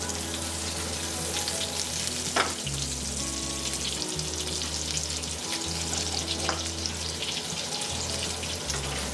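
Salmon sizzles steadily in a hot pan while being basted with its cooking fat and a squeeze of lemon juice, a constant close crackle and spatter with occasional louder pops and no voices.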